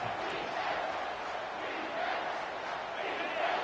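A dense football stadium crowd roars steadily on a late-game third down, a loud continuous wash of voices from all around with swells in volume.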